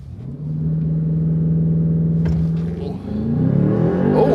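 Land Rover Defender OCTA launching hard off-road on dunes, a loud engine roar that surges and holds steady, drops briefly with a thump, then climbs again as revs rise.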